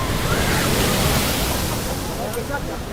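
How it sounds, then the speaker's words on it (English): Huge ocean waves, more than ten meters high, crash into a coastal town and jetty in Spain. They make a loud, continuous roaring wash of surf that barely lets up. "Waves over 10 meters high hit a coastal town in Spain."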